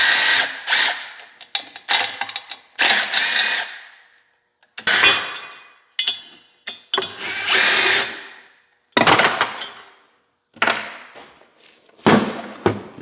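A power tool spins out bolts on a Yamaha Sidewinder SRX 700 triple-turbo snowmobile engine in repeated short whirring bursts separated by pauses, close and sharp.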